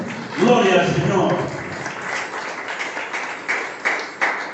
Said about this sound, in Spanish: Cuando le dan fuertes aplausos al Señor.